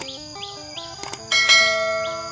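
A bright notification bell effect rings out in a few quick metallic dings, then a louder chime swells and sustains with a ringing decay, clear and alone without speech.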